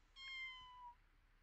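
A house cat gives a single drawn-out meow, clear and fairly close, rising and then tailing off against a quiet background.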